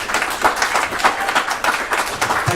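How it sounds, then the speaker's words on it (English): Audience applause at a charity sleep-out event, a steady burst of many hands clapping together, fairly loud and continuous with no talk over it. "Give him a round of applause, please."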